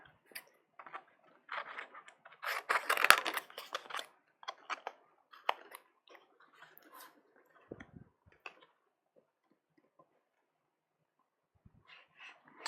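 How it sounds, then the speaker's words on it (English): Scissors snip and cut paper close up, in short clustered bursts of crisp crunching clicks separated by quiet pauses, growing sparse toward the end. "So I'm just going to mess with scissors for a minute here"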